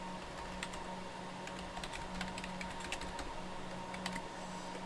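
Keys on a computer keyboard are typed in quick irregular bursts of crisp clicks over a steady electronic hum, a vCenter Server 7 entry at a workstation, close and moderately quiet with no talking.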